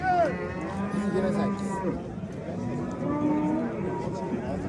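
Cows lowing at the Olmaliq livestock market, several drawn-out moos rising and falling one after another, close by, with people talking over a busy background.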